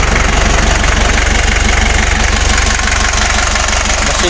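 Original engine of a Daihatsu V82RH six-wheel truck idling, a loud, close, steady diesel knock with a fast even pulse and a constant rumbling vibration, with no talking.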